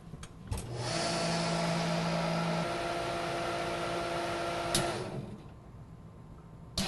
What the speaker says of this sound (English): We place our product inside the vacuum machine using our slant tray.